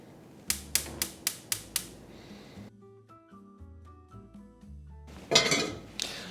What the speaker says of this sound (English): I'm cutting this potato into roughly equal-sized pieces so that they cook evenly